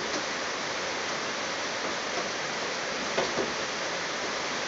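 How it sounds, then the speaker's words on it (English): Heavy rain as a dense, steady hiss with no breaks, broadband and continuous throughout, unaccompanied by any voice. "Oh, there's a heavy rain."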